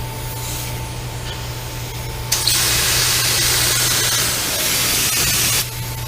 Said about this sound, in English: we're done spraying underneath